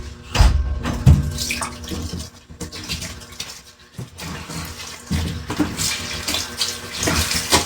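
Water runs from a tap into a sink in a steady, splashing hiss that swells and dips in uneven bursts, close and fairly loud, with no voices.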